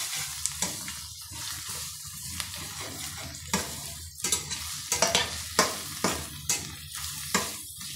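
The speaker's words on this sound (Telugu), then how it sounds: "ఆనియన్స్తో కలిపి వేపుతున్నానండి." Ginger garlic paste and onions fry in a pan, stirred repeatedly, giving soft sizzling with frequent sharp scraping strokes of a spoon against the pan at close range.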